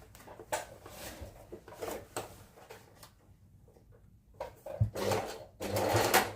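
A sewing machine stitches baggy pants in several short bursts of rapid needle chatter separated by quiet pauses, close up, with a longer louder run at the end.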